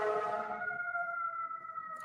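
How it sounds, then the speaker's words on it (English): A distant siren wails steadily in the background, a sustained tone holding for about two seconds and fading slightly at the end. "Grateful for the sirens in the back."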